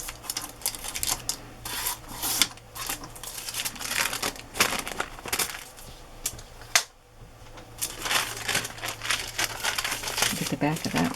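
Craft paper is torn off a sheet by hand, leaving a jagged edge, with close, crackling rips and crinkles running through the stretch between brief pauses.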